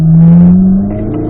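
A race car engine swells loudly as the throttle opens out of a corner, holding a strong buzzing drone that then eases slightly, close and alone.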